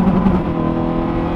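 A Honda Integra Type R DC2 engine revs steadily from inside the cabin during heel-toe downshifting on a curvy open road, a short, even drone at moderate loudness with no voices.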